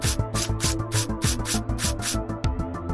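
Blade shaving plastic off the back of a toy dinosaur figure, a quick run of rhythmic scraping strokes, close and steady, with no talking.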